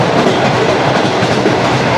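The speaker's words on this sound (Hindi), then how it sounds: "ट्रेन हमारी पास कर रही है शेरशाह रेलवे स्टेशन को" The Shalimar Express, an AC Standard passenger train, rolls through Sher Shah Junction, heard from on board as a loud, steady roar of wheels on track with faint clickety-clack running throughout.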